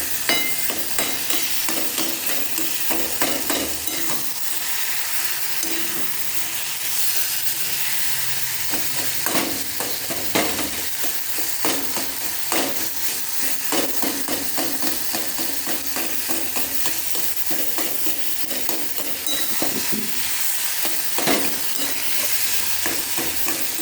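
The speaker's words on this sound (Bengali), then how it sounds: "খুন্তি করে কেটে দেবো, কারণ ছানাটা জল হচ্ছে একটু শুকনো শুকনো হয়ে গেছে তো।" Chhana (cottage cheese) being cut and stirred with a metal spatula in a hot pan, with repeated scraping strokes and taps over a constant sizzle, close and fairly loud.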